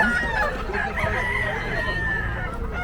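A golden McLean Hatch fighting rooster crows at a gamecock market in Bocaue, a clear drawn-out cock-a-doodle-doo over market bustle with faint talk nearby.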